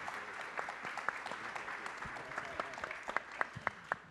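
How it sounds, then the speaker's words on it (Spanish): A summit audience applauds panelists at Innóvate Perú, thin and scattered clapping with a few sharper individual claps standing out near the end, moderately distant and fairly quiet. "Un aplauso para los panelistas"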